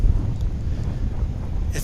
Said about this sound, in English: Be able to tell that it's just a tad windy here today.